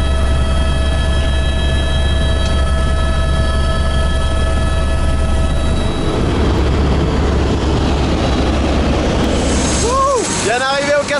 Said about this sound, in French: on va prendre un petit hélicoptère